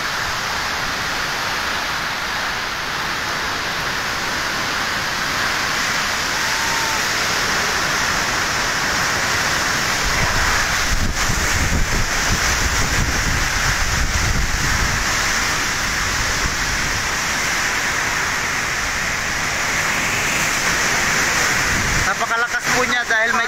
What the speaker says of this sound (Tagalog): kasamang ulan